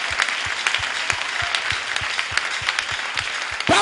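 A church congregation claps loudly and steadily in a dense, sustained wash of applause, with no voice over it.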